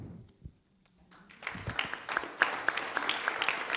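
Audience at a staged performance breaking into applause, starting faint after a quiet pause and swelling into dense, close clapping that fills the rest.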